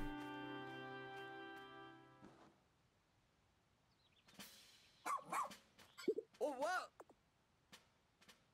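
Dog barking in the video game Pikmin 4: a few short, high yipping barks in quick succession after a sustained musical tone fades, fairly faint.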